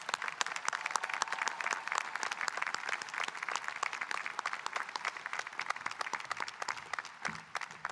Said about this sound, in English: give another round of applause to our students.